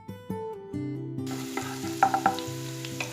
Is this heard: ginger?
yes